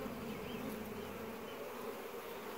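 Honey bees from three strong colonies buzz steadily around a coffin hive, a dense, continuous hum close by with no talking.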